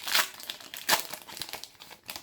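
A Final Fantasy TCG Opus 8 booster pack wrapper is torn open by hand, giving close crinkling foil crackles and short ripping bursts in an uneven run, with no talking.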